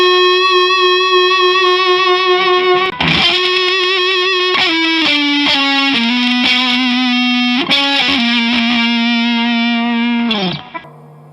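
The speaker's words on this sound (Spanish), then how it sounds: "Esto es la distorsión del ampli, ¿eh? No le he metido ningún efecto tipo un sustainer" A 1994 Fender Stratocaster Deluxe Plus electric guitar played through a distorted amplifier, with no added effects, rings out in loud sustained notes and chords, with a few sharp changes between long held tones.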